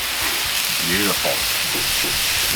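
Smash burgers sizzle on a flat-top griddle with a steady, loud frying hiss, while brief scrapes of a metal spatula and a short voice sound cut through.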